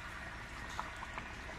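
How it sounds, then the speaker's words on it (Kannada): Village-style chicken simmers in a pot in its own juices with no added water, a faint, steady bubbling with a few soft pops. "ನೋಡಿರಿ ಎಷ್ಟು ಚೆಂದ ಕುದಿ ಆಗ್ತೈತೆ ನೋಡ್ರಿ"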